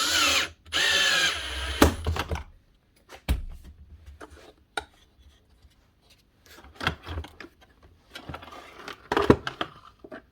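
Power screwdriver driving screws back into a Bosch GAS 1200L vacuum cleaner during repair, heard as a loud whirring burst at the start followed by several shorter intermittent buzzes and clicks, with no talk.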